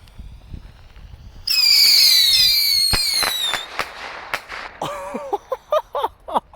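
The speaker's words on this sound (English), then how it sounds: "if you've never seen what these bottle rockets do, you will get to right now" Daytime bottle rockets are lit and launch one after another, opening with a long rising whistle followed by sharp cracking pops and further short whistling launches, loud and close outdoors.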